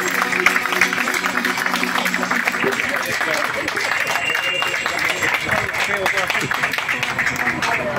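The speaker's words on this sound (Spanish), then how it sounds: "os regalaría un aplauso para todas y todos vosotros" An audience applauds at a national model boat event in Asturias, sustained dense clapping from a crowd that carries on steadily, with voices mixed in.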